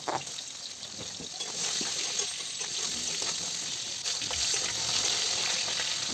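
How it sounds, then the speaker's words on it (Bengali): Potatoes fry in hot oil in a pan, giving a continuous moderate sizzle with small crackles and a faint scrape or two throughout. "তারপরে সব সবজিগুলোর মধ্যে প্রথমে আমি আলুটা ভালো করে ভেজে নেব।"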